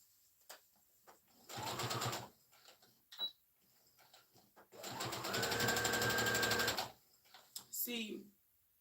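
Sewing machine stitching in two motorized bursts, a short one and then a longer steady run of about two seconds, close and clear, separated by quiet gaps with small clicks and handling noises.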